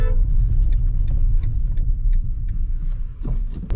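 A car engine rumbles steadily and loudly as the car takes a 90-degree L-shaped turn during a driving lesson, with a low drone throughout and a brief dip near the end.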